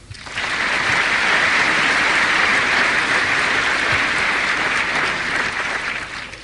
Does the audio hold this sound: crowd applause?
yes